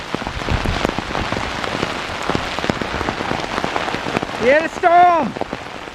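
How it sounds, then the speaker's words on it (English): Heavy rain mixed with hail pounds down in a dense, constant patter of sharp impacts, steady throughout, with a couple of brief whistling tones rising near the end. "Hailstorm started soon after, and I was taking a beating from the hails."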